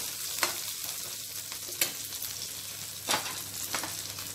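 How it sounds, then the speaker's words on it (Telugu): Tempering spices fry in hot oil with a steady sizzle for a brinjal and okra bajji, broken by a few sharper crackles and pops as seeds burst, close and fairly loud with no talking. "ఈ పోపు ఇలానే వేగాలండి, అప్పుడే ఆ బజ్జీకి టేస్టు"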